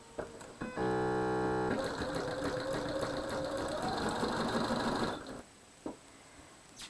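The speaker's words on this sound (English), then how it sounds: "I'm going to go ahead and sew 1/4 inch away from that center" Sewing machine stitching a quarter-inch quilt seam beside a diagonal line, a steady close mechanical whir running for about four seconds with a brief startup rattle and short clicks after it stops.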